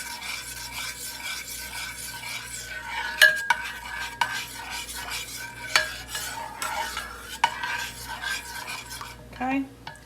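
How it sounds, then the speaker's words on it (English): A spoon stirs thickened gravy in a crockpot, scraping and swishing steadily for about ten seconds, with a few sharper clinks against the pot near the middle and end; nobody speaks. "Stir all that up."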